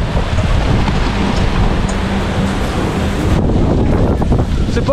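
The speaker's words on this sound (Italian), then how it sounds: "è arrivato un colpo di vento pazzesco proprio mentre ero qua che mi stavo rilassando" A violent gust of wind ahead of a storm batters the microphone outdoors beside a camper. It is a loud, continuous roaring buffet that fills the whole stretch and thins slightly near the end.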